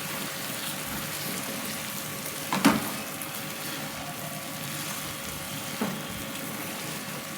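Brain masala with spring onions frying in a pan, a low steady sizzle with a couple of sharp spatula knocks as it is folded and stirred, with no talking.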